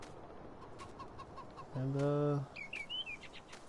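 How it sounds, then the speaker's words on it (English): Chickens in Farming Simulator 19 give a loud, harmonic squawking call of about a second, with quieter clucks and chirps around it, and a brief word spoken nearby. "Oh, let's check out our chickens."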